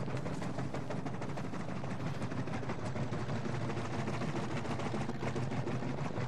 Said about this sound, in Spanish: Mira, helicóptero, helicóptero,